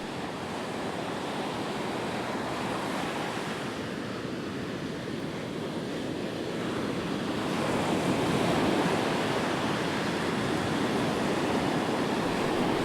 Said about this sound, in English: The tide's just starting to rise, which I quite like for beach fishing.